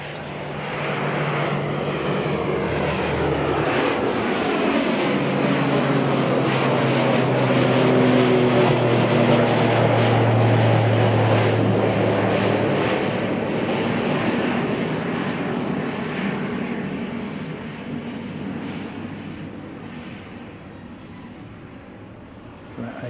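An ATR turboprop airliner departs from Christchurch, New Zealand, bound for Wellington, its propeller drone swelling loud and steady, then slowly fading as it climbs away.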